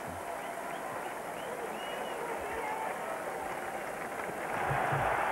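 A capacity crowd of more than 60,000 fills the Hoosier Dome for a 1990 NFL game between the New York Giants and the Indianapolis Colts, producing a steady, distant roar that swells louder near the end.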